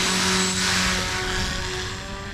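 Paramotor engine held at 42% throttle, a loud, steady propeller drone with a constant tonal hum that stays close and even for the whole stretch, with no voices over it.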